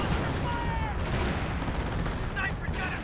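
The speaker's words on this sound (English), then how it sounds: "These 2 AT guns firing away" Anti-tank guns firing in a Company of Heroes battle with Hetzers nearby, shots thudding amid a busy, loud wash of combat noise with faint voice chatter.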